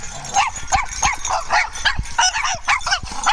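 Small dogs bark and yip excitedly during play, a rapid, continuous flurry of high-pitched barks from several animals close by, loud throughout.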